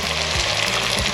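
Onions frying in oil in a pan for a vegan chilli, giving a bright continuous sizzle, close and loud, no speech.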